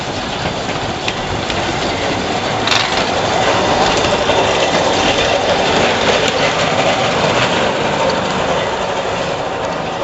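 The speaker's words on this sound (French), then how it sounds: "Là, vous le voyez passer. Avec sa petite loco qui pousse." A small rack railway train on the Rhune mountain line, pushed from behind by its little locomotive, rolls past with a continuous loud mechanical grinding and clatter of gears and wheels, steady throughout with no voices.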